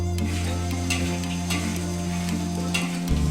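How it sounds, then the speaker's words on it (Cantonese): Prawns stir-fried in a hot wok with peanut oil, scallion, chili and garlic, giving a steady close sizzle with scraping and stirring clatter throughout, no voices. "爆香後倒入蝦翻炒"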